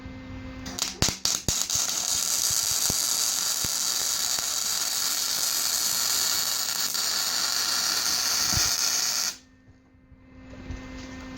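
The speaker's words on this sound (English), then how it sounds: "I'll go ahead and start welding." Wire welding on metal: a few sharp crackles as the arc strikes, then a continuous loud buzzing hiss for several seconds that cuts off abruptly, leaving quiet room noise.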